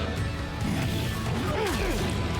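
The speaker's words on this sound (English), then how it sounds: "Just smashing him over the head with the guitar." A guitar crashes down over an enemy's head during a Death Stranding 2 fight, landing as a dull smack inside dense in-game noise, with faint voices under it.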